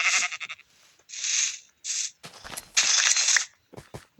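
Sheep bleat in a series of short, nasal, wavering calls separated by brief pauses, mixed with a few small clicking noises.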